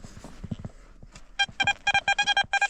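A metal detector emits a series of quick, rapid electronic beeps in a stuttering rhythm, preceded by soft rustling and handling noises, while searching ground where an old cottage once stood.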